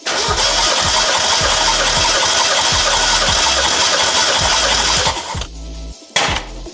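A Mazda Miata engine cranks over with the clutch in and throttle held wide open during a compression test, a loud steady rhythmic churning of the starter for about five seconds before it cuts off, then one brief restart burst.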